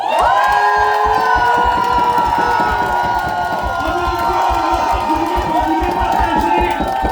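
A loud crowd cheers and shouts with sustained high-pitched whoops over rapid, continuous clapping.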